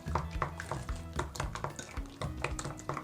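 Sauce being mixed by hand after sugar, salt and a splash of wine go in, with close clinks and scrapes of utensil against bowl in an irregular rhythm, no talk.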